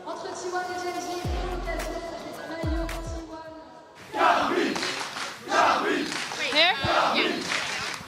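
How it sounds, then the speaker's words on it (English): Esports fans at the League of Legends grand final cheering for the teams, a crowd roaring in loud surging bursts with shouts after a stretch of tonal music and deep booms. "The fans are already out en masse cheering for the teams"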